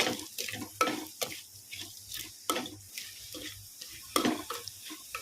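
A spoon stirring broccoli, potato, carrot and tomato curry with coarse salt and chili powder in a pan, giving repeated scraping clacks every half second or so over a soft sizzle.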